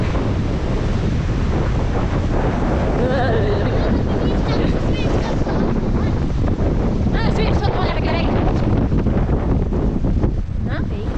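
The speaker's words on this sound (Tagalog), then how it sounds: "Sobrang hangin." Strong wind blasts across the microphone at sea near Kalanggaman Island, a loud, constant roar mixed with waves and the sound of a boat, and voices are faintly heard through it.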